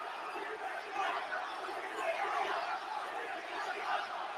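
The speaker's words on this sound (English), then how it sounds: "Man, that crowd is so loud, bro." Loud, roaring arena crowd at WWE Monday Night Raw, a steady wash of cheering and shouting voices that holds at an even level for the whole stretch.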